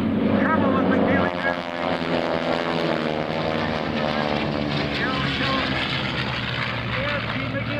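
Propeller racing airplane engine at an air show, droning at high revs and shifting in pitch as it passes, loud and continuous beneath an announcer's commentary.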